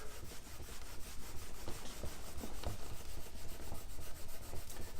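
Polishing compound rubbed back and forth on a leather strop gives a steady, quiet scratchy friction noise in fast even strokes throughout, close up and faint, with no voices.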